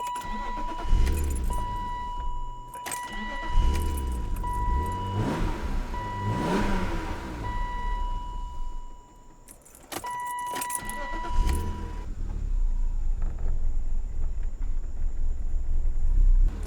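A BMW E36 M3 with a rough idle fault cranking and starting, with keys jangling, the engine catching, revving and settling into an uneven idle, briefly cut off and restarted, loud and close throughout.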